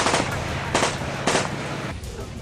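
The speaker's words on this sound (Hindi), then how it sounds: "एक के बाद एक लगातार टैंक से मिसाइल्स दागकर डोनेट्स्क को दहला दिया" Tank and artillery fire on the Donetsk battlefield in the Russia–Ukraine war, heard as a dense rumble of heavy gunfire with several loud blasts in quick succession over about two seconds.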